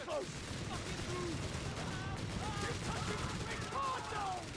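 Machine gun bursts and scattered gunfire from a Company of Heroes 3 battle, a steady dense crackle of shots under ongoing commentary throughout.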